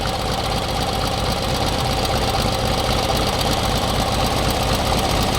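MTD racing lawn tractor engine idling steadily, a loud continuous close-up rumble with a slightly knocking, rattly texture throughout.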